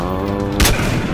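A single sharp, loud sniper rifle shot cracks out in a night woods game match, cutting through a sustained tonal hum just before it.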